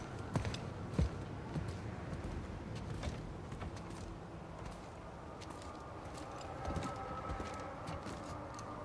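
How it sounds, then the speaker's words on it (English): A bird coos softly in the God of War game world, faint and repeated against a low mechanical rumble with occasional creaks. "Hey, look, we're by the bird!"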